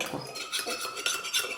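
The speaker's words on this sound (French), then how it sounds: "je remue bien de façon à ce que ça se dissolve bien" Xanthan gum being stirred into water for a DIY gel face serum, a utensil scraping and clinking against a bowl in quick, repeated strokes at close range.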